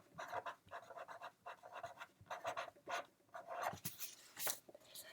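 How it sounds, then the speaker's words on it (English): A pen or pencil scratches across paper in short bursts, crossing out a word and rewriting it above, with brisk strokes separated by brief pauses, close and fairly quiet. "I'm going to cross it out and write it above."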